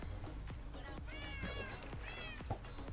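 Cats in the video game Minecraft meow several times in a row over a steady background hum of game sound, the meows soft and fairly faint in the mix.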